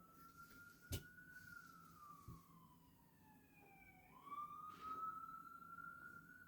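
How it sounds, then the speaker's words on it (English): A distant siren wails in a slow rising and falling tone, its pitch sliding down as it passes, with faint traffic noise and a couple of knocks. "I hear an ambulance"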